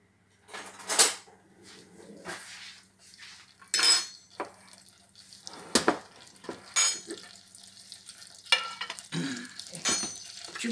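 A spoon scrapes and clinks against a bowl and pan while flour is scooped for a béchamel sauce for lasagne, in a series of short, uneven bursts with quiet gaps between them.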